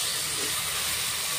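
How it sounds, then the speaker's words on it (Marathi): Two finely chopped large tomatoes sautéing in a pan for soya pulav, giving a steady, close hiss of sizzling with no talk over it. "टमाटे आपण छान नरम होईपर्यंत परतून घ्यायचे."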